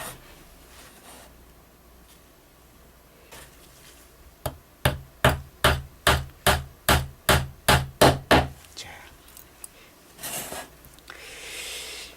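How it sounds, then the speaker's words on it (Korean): A hammer drives nails into a wooden treasure box, a quick run of about a dozen sharp, evenly spaced blows, close and loud over a quiet room. "못을 박아 주고요. 이쪽도 동일하게"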